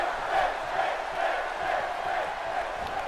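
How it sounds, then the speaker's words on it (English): A virtual arena crowd in the WWE 2K18 wrestling game roars and cheers continuously during a SmackDown Live match, a dense, even wall of noise with small swells. "This crowd is on their feet."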